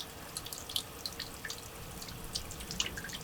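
Water trickles and splashes steadily as it flushes out of a motorhome radiator, with irregular drips and spatters close by and no talking.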